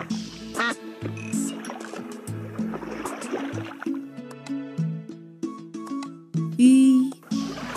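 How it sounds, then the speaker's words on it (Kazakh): Duck quacking repeatedly in a string of close, loud, nasal calls with short gaps between them and no talk. "Үйрек."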